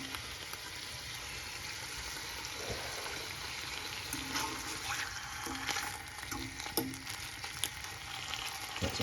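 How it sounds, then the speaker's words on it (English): Bacon frying in a pan gives a steady, close sizzle and crackle throughout, with occasional soft clinks of a utensil and no talking. "Let's get this bacon nice and crispy."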